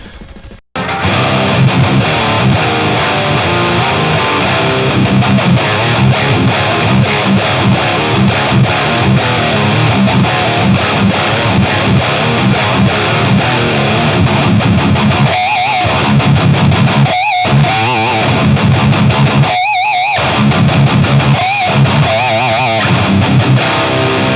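An electric guitar plays through a GE250 effects unit with the gain at about 30%, giving a loud, continuous distorted tone with a few brief gaps near the end.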